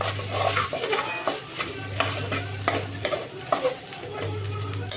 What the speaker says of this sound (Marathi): चला आता वाटप मस्त भाजून घेऊ